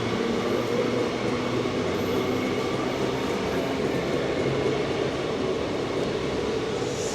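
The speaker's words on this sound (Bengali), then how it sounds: "দেখো 10টা 6 ট্রেন আমাদের বাগনান ছেড়ে দিল।" A Santragachi–Digha line train pulls out of Bagnan station, heard from on board as a steady, loud rumble of wheels and carriages with faint rhythmic rail clatter.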